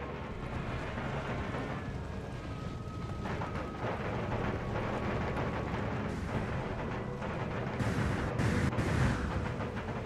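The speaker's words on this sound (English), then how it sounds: "Foot artillery engage their line." Artillery in Empire: Total War pounding across a battlefield, with distant booms and cannon reports blending into a steady rumbling din that swells toward the end, quiet and without speech.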